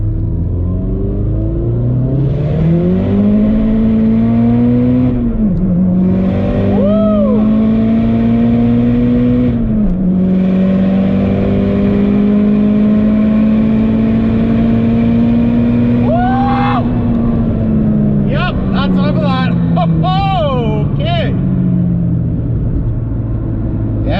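A Mazdaspeed 3 pulls hard in second gear from low revs, its loud engine note climbing steadily with a few brief dips and shifts, turbo whistles and chirps surfacing near the end, all without talk.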